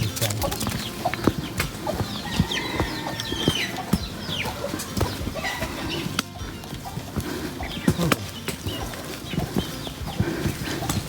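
Hens clucking around a farmyard along the Camino Francés pilgrimage route in Spain, busy scattered clucks and calls over ambient outdoor noise, with occasional hoof-like clops nearby.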